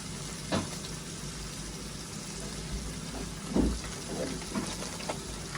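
Masala with turmeric and biryani spice fries in a pot for chicken biryani, a low continuous sizzle broken by a few scraping stirs and soft knocks, moderately close, with no talking.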